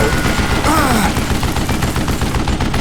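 Gunfire in the Western shooter Call of Juarez: Gunslinger, a dense, steady rattle of shots lasting throughout over game music, with a rising whoosh partway through.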